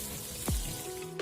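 Half a cup of water poured into a chicken karahi in the pan, a brief, faint splash with a light sizzle and no talking.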